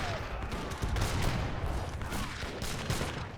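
Continuous mortar and gunfire barrage in a strategy video game, a dense, steady roar of overlapping blasts and crackling shots with a few heavier thumps, lasting throughout without a break.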